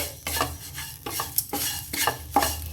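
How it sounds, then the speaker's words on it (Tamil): Black sesame seeds and salt are stirred in a pan, giving repeated rhythmic scraping sweeps roughly every half second over a faint sizzle, close and clear. "உப்பு போட்டுட்டு நல்லா கிண்டிட்டு"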